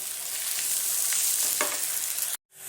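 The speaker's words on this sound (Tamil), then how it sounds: "சேர்த்து கிளறிட்டு நல்லா சிம்லேயே நீங்கள் வந்து ஒரு 5 நிமிஷம் வச்சுருங்க." Bitter gourd stir-fry with turmeric sizzling steadily in a pan while being stirred, loud and continuous, then stopping abruptly near the end.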